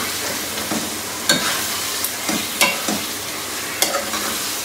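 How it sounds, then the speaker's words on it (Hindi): Chicken and fried tinda stir-fried together in a pan, a bright continuous sizzle punctuated by rhythmic spatula scrapes and clanks every second or so, close and loud with no voices. "अब हम इसके अंदर जो हमने टिंडे फ्राई किए थे वो डाल देंगे और तकरीबन फिर 1 से 2 मिनट के लिए फिर इसकी भुनाई करेंगे"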